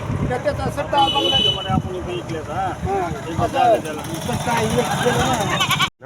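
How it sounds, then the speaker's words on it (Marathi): Goats bleat repeatedly among a crowd at a busy outdoor goat and bull market in Adas, their calls rising over constant chatter from many people nearby. "आज आलो आडसच्या बाजारामध्ये बैलाचा शेळ्याचा बाजार तुम्हाला दाखवणार आहे"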